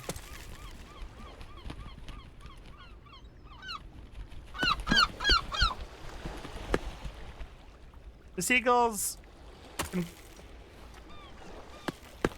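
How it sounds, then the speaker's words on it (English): Seagulls in the video game Peaks of Yore give repeated, yelping calls. Bursts come in short series, with one louder, nearer cry near the end, over a low background hum. "The seagulls can do one."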